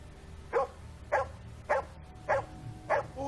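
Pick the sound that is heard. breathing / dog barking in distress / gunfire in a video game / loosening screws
dog barking in distress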